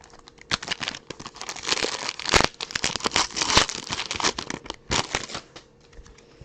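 Cards from a freshly opened Leader Of The Pack trading card pack being shuffled through quickly, a close, continuous crisp rustle and crinkle of card stock with sharp flicks and slaps, loud and steady with no talking.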